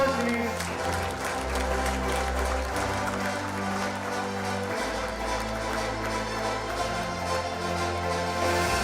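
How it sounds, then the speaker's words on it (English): Audience applause at a biodiesel conclave award ceremony, continuous clapping running under loud background music with steady low bass tones throughout. "A round of applause, please."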